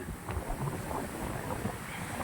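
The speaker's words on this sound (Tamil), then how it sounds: "தண்ணி பாருங்கள் அலை அடிக்குது அந்த அளவுக்கு காற்றடிக்குது" Strong wind blowing across open water and driving waves, a steady broadband rush with gusty buffeting of the microphone; continuous, fairly faint, no voices.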